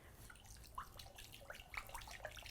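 Dawn dish soap squirts into a mixing bowl of water, giving faint, soft liquid splashes and drips in a quiet room.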